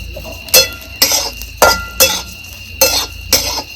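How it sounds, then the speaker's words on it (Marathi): Dried fish (sukat) stirred and roasted in a metal pan, a spoon scraping and clinking against the pan in six sharp, evenly spaced strokes, close and fairly loud with no talking. "जशी सुकट टाफे आपण हलवून हलवून हलवून भाजू"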